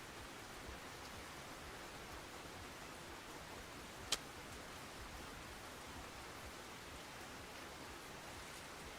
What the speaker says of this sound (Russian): Как же я устал от этого дождя,